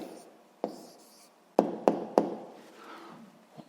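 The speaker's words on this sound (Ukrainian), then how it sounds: "Ну а зараз записуємо відповідь, пишемо відповідь." A pen on paper while writing an answer to a physics problem, a few sharp taps and short scratchy strokes spaced irregularly, close and quiet with no talk.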